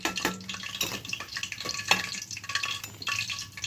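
Lentil vadas for dahi vada are slipped one at a time into a pot of hot water, making a few soft close splashes and plops with light clinks of utensils, and no voices.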